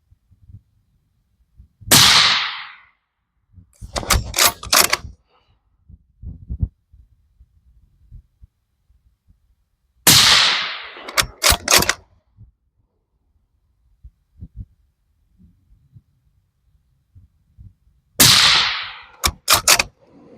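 Suppressed gunshots fired at a target during a point-of-impact test with YHM and Dead Air suppressors: three loud, sharp reports spaced about eight seconds apart, each followed by a cluster of clicks and clatter from handling the gun.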